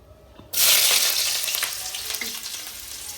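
A sudden loud sizzle as onions hit hot oil, then a steady crackling fry that gradually settles.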